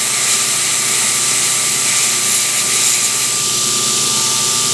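A belt grinder sands a knife handle during knife making, giving a steady, loud, continuous abrasive whir with a constant tone that holds evenly throughout, with no talking.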